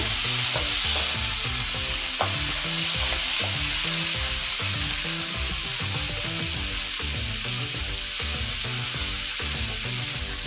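Fried potato, cauliflower and eggplant are stirred into frying masala in a pan: loud continuous sizzling with rhythmic scraping stirs repeating about every second, close and unbroken, with no talk.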